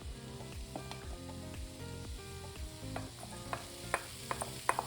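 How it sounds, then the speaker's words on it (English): Onions and shallots sauté in a hot Dutch oven, with a soft, continuous sizzle and crackle and a few sharper pops and clinks near the end, quiet and close with no voices. "you want to add your onions and shallots"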